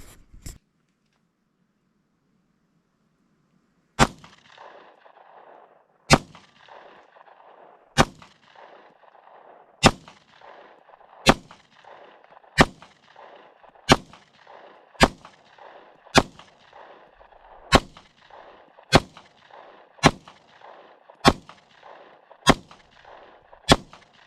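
A Glock 43 pistol fitted with a PSA Micro Dagger conversion fires about fifteen sharp, loud single shots at a slow, steady pace, each with a brief ringing tail. Silence comes before the first shot.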